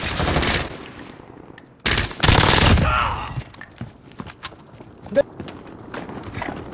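Loud bursts of automatic gunfire in a Warzone match, two heavy volleys followed by scattered single shots and impacts, with voices talking over parts of it.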